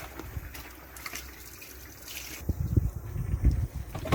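Rinse water gushing out of a camper's toilet cassette as it is emptied, a steady trickling splash that swells louder and more turbulent partway through, with no talking.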